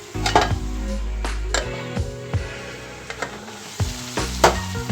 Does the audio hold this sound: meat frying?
yes